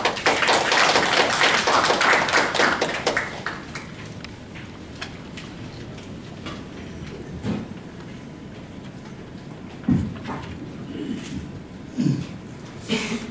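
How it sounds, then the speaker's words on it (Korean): Audience applause at a panel forum on disaster safety management for people with disabilities: a dense, fairly loud burst of clapping for about three seconds, thinning into scattered claps and soft thumps in a quieter hall. "박수 부탁드리겠습니다."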